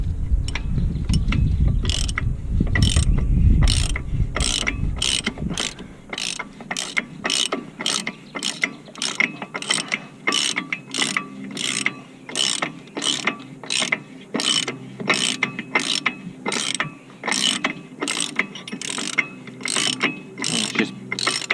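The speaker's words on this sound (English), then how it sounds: "ratchet." Ratchet wrench clicking steadily while tightening a part during a front brake job on a Chevy, a long run of sharp, evenly spaced ratchet strokes close to the mic after a brief low rumble at the start.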